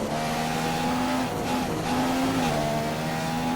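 Marussia Formula 1 car in a racing video game at Bahrain, its engine giving out: a steady, loud mechanical drone with wavering tones that shift and dip, heard alone without talk.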